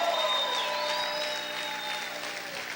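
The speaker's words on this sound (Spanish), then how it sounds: "Vamos a gritar y aplaudir fuerte al Señor." A church congregation claps and cries out loudly at a service, with sustained applause under high, tonal shouts and whistling voices, a dense lively wash throughout.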